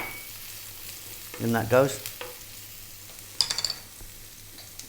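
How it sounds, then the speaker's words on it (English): Garlic and ginger hit very hot oil for a Chinese whole fish dish, giving a short sizzling burst followed by some stirring and clinks of a utensil, with a brief spoken remark over it. "We're going to start off by dropping in our garlic and ginger."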